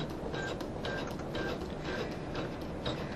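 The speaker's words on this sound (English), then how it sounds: "All you have to do is press the start button and it will baste." An embroidery machine bastes fabric with a steady mechanical whir and a faint repeating tone at each stitch cycle. The sound is even, continuous and close, with no voices.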